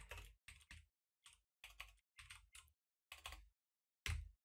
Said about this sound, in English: As you can see, my typing still has not improved.